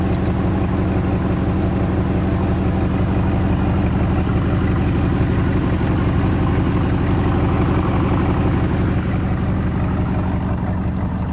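A 1989 Pontiac Trans-Am with a Ferrari Testarossa replica body idles steadily at the rear, a loud, continuous low rumble that holds even throughout, with no talking over it.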